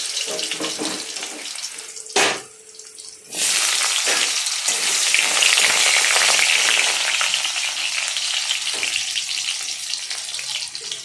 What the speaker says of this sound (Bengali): ফোড়ন দিয়ে আলুটাকে ভেজে নিলাম ভালো করে